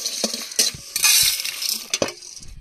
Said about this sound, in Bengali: গোটা ধনিয়া, গোটা জিরা দিয়ে দেব, গোলমরিচ দিয়ে দেব। মশলাগুলো একসাথে ভেজে নামিয়ে নেব।